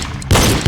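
Pistol shots during a timed reload drill on a shooting range, a loud broadband blast starting partway through and sustained with a second burst near the end, close and sharp.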